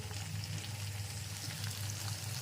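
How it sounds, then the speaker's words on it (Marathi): Chili pieces sizzling steadily in hot oil while cooking a soya chunks curry, a soft continuous frying hiss with a low bubbling undertone, close and unbroken throughout. "फायनली आता इथे मी मिरची फोडं घालते"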